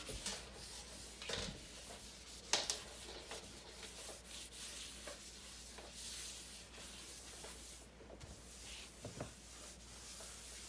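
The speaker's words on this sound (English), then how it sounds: "Now I'm just going to add a little bit of oil to the skillets and rub them down." Oil, such as avocado oil, is rubbed by hand into cast iron skillets. Soft, faint rubbing and wiping strokes come in irregular bursts over a quiet background, with one brief sharper scrape, and no one talks.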